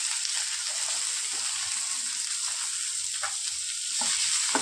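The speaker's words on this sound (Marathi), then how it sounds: "कांदा परतून घेऊ." Chopped onion sautéing in a pan for a Cassia tora (takla) leaf vegetable dish, a steady close sizzle with occasional stirring scrapes and no talking.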